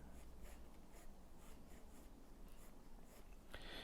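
A 2B pencil drawing hair on paper gives soft, rhythmic scratchy strokes that repeat in quick short bursts, close and quiet, with a brighter rub near the end.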